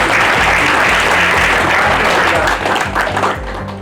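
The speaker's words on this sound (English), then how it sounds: "Let's clap for." An audience breaks into loud, sustained applause for a speaker, dense clapping from a crowd close by that holds steady and begins to thin toward the end.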